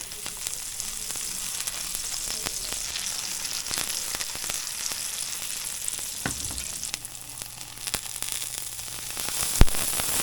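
Slices of puffball mushroom sizzle in melted butter in a pan, a steady close crackling hiss with faint pops and scrapes throughout.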